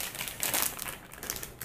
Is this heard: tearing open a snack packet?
yes